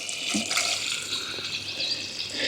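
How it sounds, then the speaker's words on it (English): Water pours steadily into a pot buried in garden soil with a bright, splashing rush, continuous and close, with faint gurgles as it drains away to the roots. "And all of the water goes straight down to the roots"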